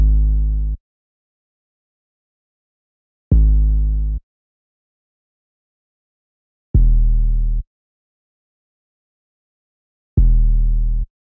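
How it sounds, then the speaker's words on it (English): Four long, deep 808 bass notes from a UK drill beat in FL Studio, each booming for under a second with rich harmonics, evenly spaced and heard alone with no talk. "Then we got the 808, I chose the spins ones."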